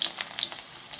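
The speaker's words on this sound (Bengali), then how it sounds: "আর মাংসর আলু এখন ভাজবো" Potatoes for a meat curry frying in a pan, a brief burst of crackling sizzle with a few sharp spitting pops, close and alone.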